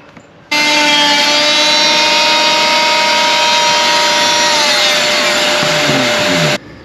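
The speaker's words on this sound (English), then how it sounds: "This is my trusty hospital grade vibration saw" An oscillating saw, roughly 35 years old, cuts the cap-rail of a 45-year-old monohull boat in one loud, steady high-pitched whine that runs without a break for about six seconds, then stops abruptly.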